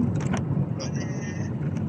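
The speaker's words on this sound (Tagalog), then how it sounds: "Mabilis ang takbo ng sasakyan." A car speeds along a road near Sierre, Switzerland, with a steady low rumble of engine and tires heard from inside the vehicle, while people chat over it throughout.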